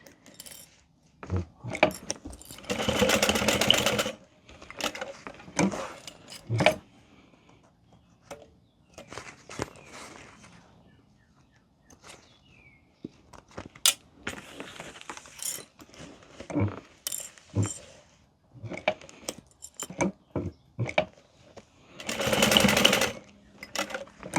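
A home sewing machine basts 3/4 inch connectors onto a zipper for a bag, running in several stop-start bursts of rapid stitching with clicks and handling noises between runs, no talking.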